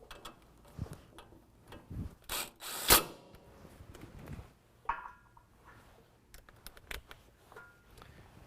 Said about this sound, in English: Tighten that down with a 10mm.